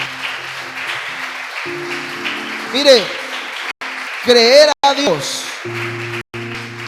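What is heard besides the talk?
congregation applauding in church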